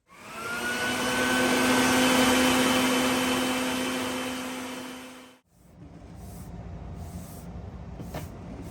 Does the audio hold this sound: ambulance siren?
no